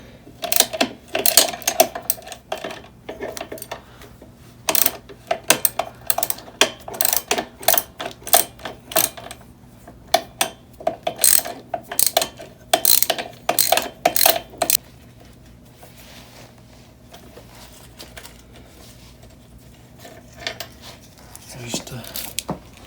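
Ratchet cranking a bolt loose on a Yamaha TTR125 engine, loud rapid clicking bursts in quick repeated strokes for about fifteen seconds, then quieter scattered clicks.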